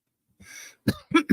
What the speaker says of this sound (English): Excuse me, folks. Cough.